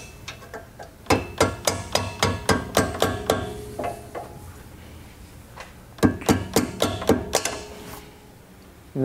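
Hammer blows on a flathead screwdriver drive a rear suspension bushing into place on an S550 Mustang, sharp metallic strikes coming in two steady bursts of rapid, evenly spaced hits, close and loud, with no talking.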